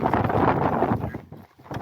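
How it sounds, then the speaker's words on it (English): Strong wind gusts across the microphone on a desert rooftop overlook at dusk, a loud, continuous rumbling roar that dips briefly before surging again. "It's starting to get very windy too."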